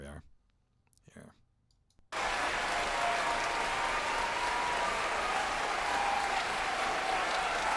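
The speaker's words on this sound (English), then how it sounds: "The cellist puts her bow down and is clapping over her head." Applause from an orchestra concert audience plays back on a screen, a dense, steady wash of clapping that starts abruptly after a few quiet seconds with a brief click and faint speech.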